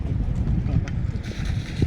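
A boat moves across water with a low rumbling wash and wind buffeting the microphone, steady throughout.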